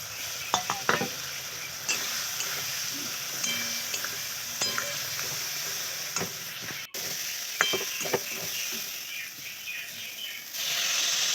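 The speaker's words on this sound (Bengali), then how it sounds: "তাই দেখো আলুটা ভালো করে তেলে কষিয়ে নিয়ে জিরে আদা আর লঙ্কা বাটা দিয়ে তরকারিটা করবো" Potatoes being fried in oil with cumin, ginger and chilli paste give off a steady sizzle, broken by scraping stirs and clinks of the utensil against the pan.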